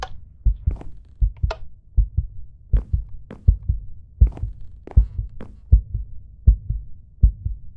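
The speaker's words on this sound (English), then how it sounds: "And there's the heartbeat again." Steady heartbeat sound effect from the horror game Grief - The Five Stages, a loud, close, rhythmic double-thump pulse repeating evenly alone with no talk.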